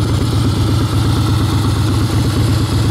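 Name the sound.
Harley Davidson FXS Softail Blackline motorcycle engine idling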